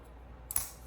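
A single short metallic ting as a CJRB folding knife blade snaps open against its stop pin, bright and brief over a quiet room.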